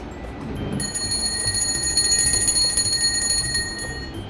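A puja bell rings steadily for several seconds during a Khandoba Champa Shashthi worship ritual, bright and sustained with a continuous ringing shimmer, starting after a short pause and staying at an even level to the end.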